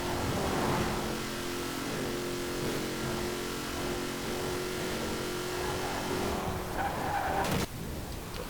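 2019 Chevrolet Corvette ZR1 in Forza Horizon 4 at very high speed on a motorway, a loud continuous engine drone with tire noise and a brief sharp transient near the end.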